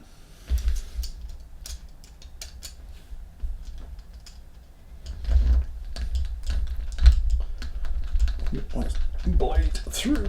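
A blade works through a plastic part on a Revell 1/32 He111 model kit, producing small clicks, ticks and scraping taps up close, with someone talking throughout.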